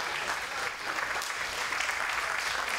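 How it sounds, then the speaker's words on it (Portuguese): Crowd in a fight arena at a Contender Series event applauding a fighter, a dense continuous roar of clapping with slight swells, fairly full and unbroken. "E sendo aplaudido pela galera presente aqui na nossa arena"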